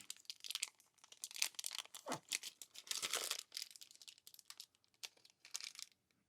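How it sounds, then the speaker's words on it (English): Packaging on an eBay modified iPod Classic crinkles and tears up close, with bursts of crumpling plastic and paper in uneven handfuls and short pauses between. "let's get this guy unwrapped"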